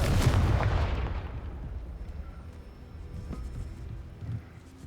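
In Hogwarts Legacy, a Confringo spell sets off a loud booming explosion that decays over a couple of seconds, followed by scattered smaller blasts and crackles.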